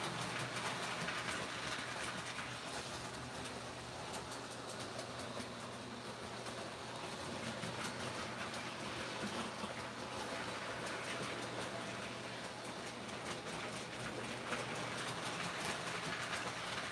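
A model locomotive runs on a model railroad layout, giving a steady, even rolling rumble with faint rail clatter that continues without a break and without talk.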